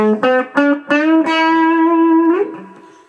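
A distorted electric guitar plays a short beginner pentatonic lick: three quick picked notes, then a sustained bent note that rings out and fades.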